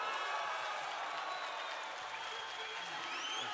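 Crowd applauding and cheering at a taekwondo championship match, a dense continuous patter of clapping from a large audience, fairly faint and distant, with no talk over it.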